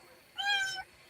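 A house cat gives one short meow, faint and somewhat distant, standing alone against a quiet background.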